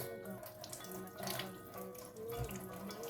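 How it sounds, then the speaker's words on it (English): Fruit is rinsed under a running kitchen tap, a steady close rush of water with small splashing changes as the fruit moves in the stream. "First I have to wash the fruit."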